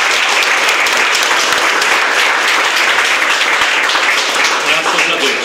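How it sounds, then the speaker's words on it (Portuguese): A congregation at a church wedding bursts into loud, sustained applause, dense clapping filling the room without a break, with voices mixed in. "A igreja pode aplaudir?"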